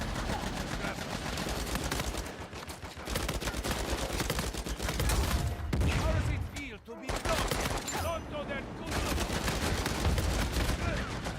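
An HS gun fires in a video game in long, rapid, loud bursts of shots that continue almost without pause, with a short break, while a voice speaks underneath.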